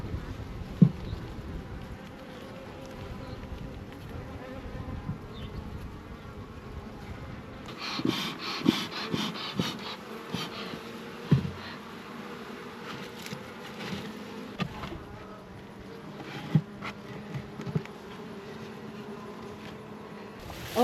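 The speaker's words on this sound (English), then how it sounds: "You can see we've got a lot of bees on all 3 landing boards over here." Honey bees from a new swarm buzz around the landing boards of a long Langstroth hive, a continuous close drone that thickens partway through, with occasional louder passes near the microphone.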